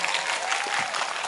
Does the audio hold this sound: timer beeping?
no